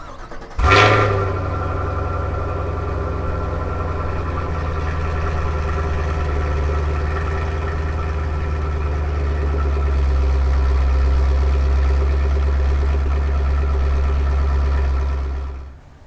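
A 2017 Chevrolet Camaro SS with a naturally aspirated 6.2-liter LT1 V8 fires up with a sharp burst, then settles into a deep, loud, steady idle that swells slightly before cutting off at the end.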